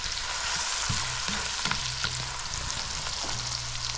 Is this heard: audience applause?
no